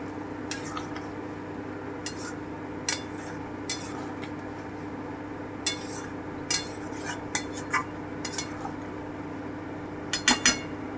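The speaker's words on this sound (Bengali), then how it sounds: "আমি ঢাকাটা খুলে একটুখানি নেড়ে দিচ্ছি" A pot lid lifted and chicken malai curry stirred with a metal spoon, giving scattered clinks and scrapes against the pot over a low steady hum, close by with no talk.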